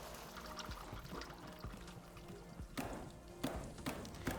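Water pours for tea in Wanderstop, a soft continuous trickle and splash that is faint and steady, with a few light knocks near the end.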